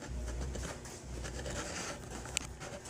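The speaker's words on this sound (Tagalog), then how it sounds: "Ang lakas ng ulan ngayon, pero mainit pa rin guys." Steady, dense rain hiss pouring down continuously, loud and close, with a brief sharp tap partway through.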